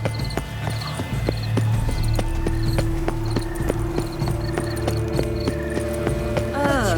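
Horse hooves clip-clop in steady rhythm through a Witcher 3: Wild Hunt Blood and Wine game scene, close and continuous over a low ambient hum with faint chimes.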